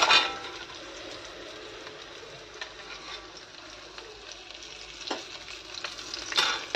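Bitter gourd frying in hot oil in a home kitchen, a steady bright sizzle with occasional stirring scrapes, close and continuous, no talking.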